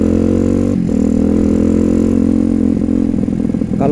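Modified bore-up Honda CRF 150L with an aftermarket exhaust, engine running steadily and loud close by, a rough idle with a brief blip near the start and rattly revving toward the end.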